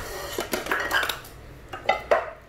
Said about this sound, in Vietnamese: Đây là chảo Pháp nhỏ